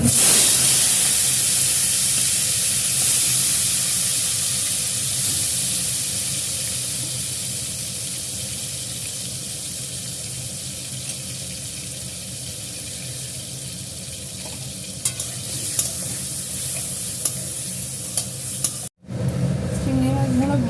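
Shrimp frying in hot oil in a wok, a loud continuous sizzling hiss that slowly fades, followed by a few light clatters near the end.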